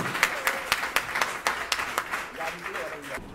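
An audience applauds the mayor Henri Germain of the commune of Thierry with a run of distinct claps at an even pace that thins toward the end, while someone speaks faintly underneath.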